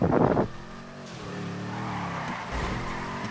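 A drifting car in GTA 5 spinning out, with a short burst of tire squeal followed by a droning engine whose pitch climbs and falls, ending in a brief rev surge.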